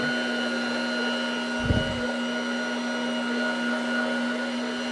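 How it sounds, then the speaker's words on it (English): A WonderMix stand mixer kneads bread dough with a steady, even motor hum and whine, a single brief low thump partway through, running alone at moderate volume. "The WonderMix is just kneading."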